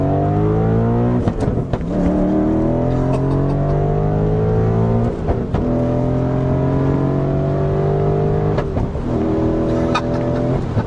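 A loud V8 engine in an Audi S4 revs up repeatedly, pitch climbing then dropping with each gear shift, three or four shifts in quick succession from inside the car.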